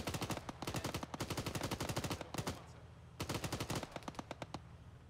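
Machine gun fire in Arma 3 during a base assault: long rapid bursts of evenly spaced shots, loud and close, with a brief pause before another sustained burst.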